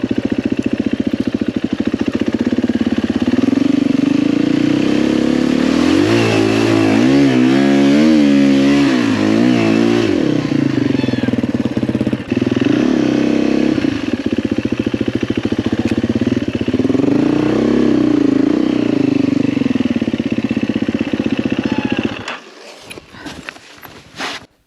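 An enduro motorcycle engine runs close by at a hard enduro orienteering event, idling and revving repeatedly with rising and falling pitch, then cutting off near the end.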